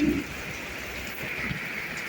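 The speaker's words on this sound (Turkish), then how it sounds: "Bayağı yağmur yağıyor neredeyse." Heavy rain pours steadily outdoors, a dense, even hiss with a brief low rumble at the start and no other sounds.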